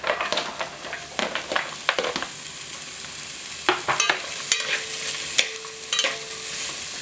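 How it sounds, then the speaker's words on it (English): Onions sizzling and frying in a pan with garlic and ginger, with a spatula repeatedly scraping and stirring over a steady close hiss. "So I'm adding the onions."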